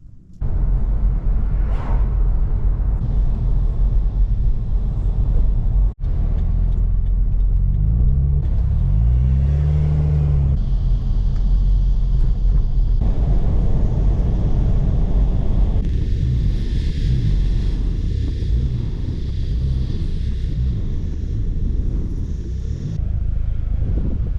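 A car drives down a tight road over a series of speed humps, its engine a loud steady rumble close to the microphone with wind buffeting, shifting tone as it slows and speeds up.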